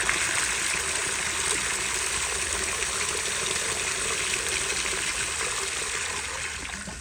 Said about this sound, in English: So let's go ahead and just flush this down